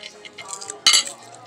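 A metal spoon clinks once against a plate at a Chinese restaurant lunch table, a sharp, close, bright chink after a brief stretch of quieter tableware rattling.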